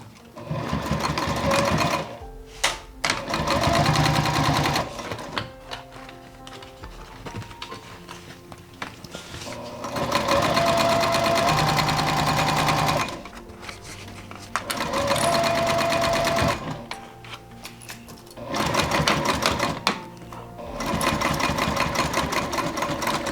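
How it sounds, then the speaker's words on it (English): A sewing machine stitches bag fabric in repeated bursts of rapid mechanical whirring, each run lasting a few seconds with short pauses between, close and loud with no talking. "And now we can actually sew."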